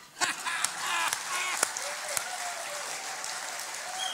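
Sustained audience applause fills a church-style gathering, a dense steady wash of many hands clapping at moderate distance, with a few sharper individual claps standing out near the start and a faint voice underneath.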